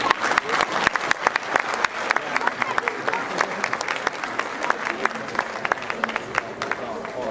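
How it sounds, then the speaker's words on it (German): An audience at a boxing club team presentation applauds steadily, dense clapping from many hands with sharp individual claps standing out, continuous throughout with crowd murmur underneath. "Schön klatschen"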